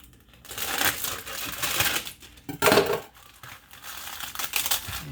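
A knife cuts through small potatoes: a run of crisp, crunchy slicing and clicking sounds in uneven bursts, with a louder crackle in the middle, close by and with no voices.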